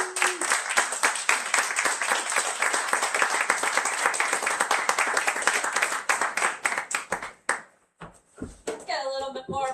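Audience applause at a book launch reading in Los Angeles, dense clapping that thins into scattered individual claps before a voice begins to speak at the end.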